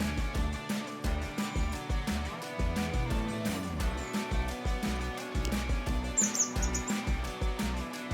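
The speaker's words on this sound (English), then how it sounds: "Oh, birds." Repeated high chirps and tweets from birds sound faintly over a steady rhythmic electronic beat with a constant tonal hum, the calls scattered through the whole stretch.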